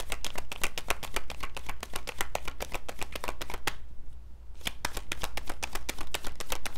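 A deck of tarot cards is riffle-shuffled up close: rapid crisp flutters in quick repeating bursts, a brief pause near the middle, then more shuffling.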